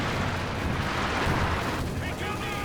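Smoke rounds land in a Company of Heroes 2 battle, making a dense, continuous rumble of muffled booms and crackling bursts over dull battlefield noise.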